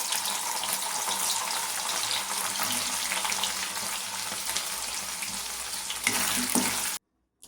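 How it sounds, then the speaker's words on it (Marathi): Paneer cubes shallow-fry in oil in a kadhai over a medium flame, giving a steady, close sizzle and crackle that stops abruptly near the end. "तर आपले हे क्यूब्स फ्राय झालेले आहेत. अशा प्रकारे तुम्ही शॅलो फ्राय करून घेऊ शकता."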